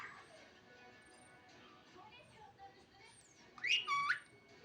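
Pet bird chirping with a couple of brief, fairly faint whistles near the end, heard beneath a person talking softly to it indoors.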